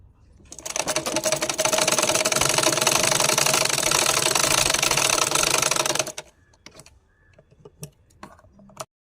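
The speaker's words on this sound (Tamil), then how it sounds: "இப்போ நம்ம பின்பக்கம் அப்படி வளைச்சி அதே மாதிரி தைக்க போகிறோம்." A sewing machine stitches a chudidar sleeve in a fast, steady whirring run for about five seconds, then stops, leaving scattered handling clicks and taps close by.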